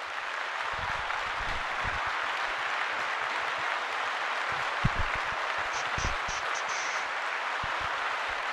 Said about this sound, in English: Let's give Victor and Grant a round of applause, everybody.